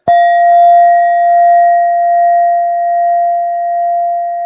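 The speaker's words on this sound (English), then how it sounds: "I also use sound instruments, which is this beautiful brass Indian bowl" A single strike on a brass Indian bowl rings out clearly, then hums a pure, steady tone that sustains and slowly wavers as it fades.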